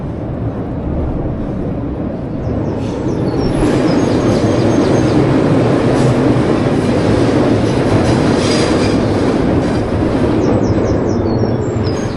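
A train rolls past on the rails near the Exhibition Centre station in Glasgow, a loud steady rumble with rhythmic clickety-clack from the wheels, growing fuller partway through.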